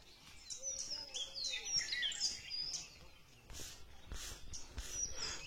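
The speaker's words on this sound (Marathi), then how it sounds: "हा बघा, हा पोपट आहे" A parrot calls near its nest hole in a silk cotton tree in the Konkan countryside, giving a run of sharp chirps and whistles that is fairly close, with a few dull knocks toward the end.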